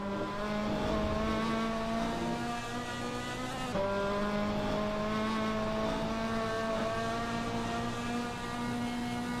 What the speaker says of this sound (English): That VAC Fiat 131 looks good driving through Bilstein Curve.